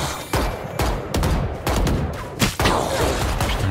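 Loud gunfire from the video game Valorant: a rapid string of sharp shots and short bursts, close and dense, with brief gaps between volleys.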